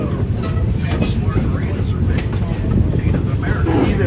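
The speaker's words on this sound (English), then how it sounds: "We're riding on the Verde Canyon Railroad." Steady rumble and rattle from inside a passenger car on the Verde Canyon Railroad, a continuous loud rolling noise with low clatter and faint voices mixed in.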